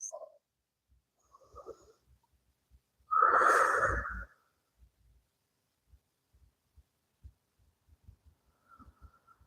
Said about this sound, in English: 3 rounds of breath.